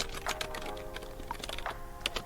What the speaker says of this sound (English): So let's type that in since we've identified that.